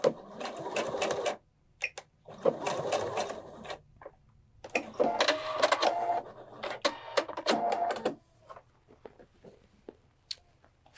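A sewing machine runs in short stitching bursts while backstitching quilt binding, with several stop-and-start runs separated by brief pauses and a few small clicks in between.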